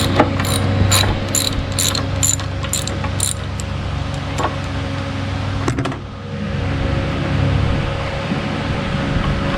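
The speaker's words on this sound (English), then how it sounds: "We're going to go down there and take that bolt out." A ratchet wrench works a bolt loose on a Yamaha outboard motor during a 100-hour service, a rapid clicking run of ratchet pawls at first and then a few isolated clicks over a constant low mechanical hum.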